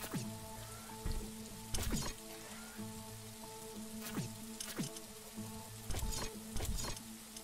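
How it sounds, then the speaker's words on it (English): Steady rain falls in The Riftbreaker, a soft constant patter with scattered droplet ticks, heard alone over a low ambient hum. "It's raining."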